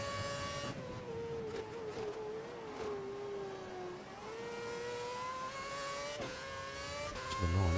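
A Formula One car engine in F1 2011 screams at high revs on track, its pitch rising and dipping steadily with brief gear-shift breaks, loud and close throughout, no talking.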